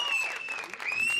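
A crowd at a trap shooting competition cheers and claps for British shooter Tom Betts, a short burst of applause with a whistle running through it, recorded at moderate volume.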